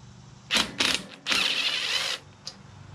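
A 5/16 bolt on a Craftsman LT2000 lawn tractor being loosened, with a few short bursts of rapid mechanical ratcheting or buzzing followed by one longer burst and a final faint click, close and alone.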